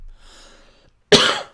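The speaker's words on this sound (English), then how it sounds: "I coughed in your ear." A single loud, close cough right into a microphone during a live stream, sharp and sudden, follows a stretch of faint low background sound and quiet.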